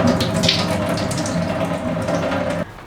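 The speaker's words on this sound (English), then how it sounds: "I do my best to water it very well everywhere" Tap water runs steadily into a potted houseplant, a close, continuous splashing rush that stops abruptly near the end.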